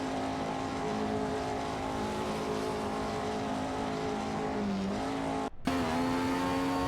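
Race cars, a Bourbon BT24 and a Honda Red 300, battle in a video game race, their engines droning loud and continuous with shifting revs and a brief cut near the end.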